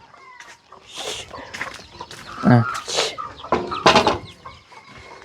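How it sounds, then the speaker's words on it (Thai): Chickens clucking close by in a Thai rural setting, a few short bursts and squawks scattered over several seconds, with someone speaking briefly among them. "ไก่ จ้า ไก่นะลูก"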